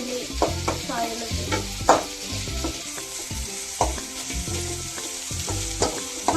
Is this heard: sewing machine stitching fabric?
no